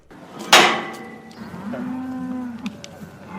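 Dairy cattle by a farm cow shed near York give a short, close moo with a loud onset, followed by a lower, drawn-out call over quiet farmyard background, with no talking.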